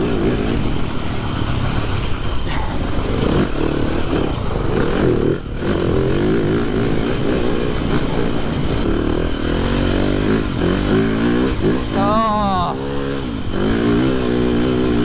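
A TM 300 four-stroke motorcycle ridden around a wet track, its engine loud and close throughout as it revs up and down through gears, with a rider's voice faintly present over the engine.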